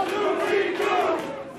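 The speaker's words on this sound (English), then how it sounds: "And you can hear the crowd, obvious respect" A wrestling crowd at a professional wrestling match roars and chants in a loud, sustained swell of many voices, rising and falling in waves over a short stretch with no commentary on top.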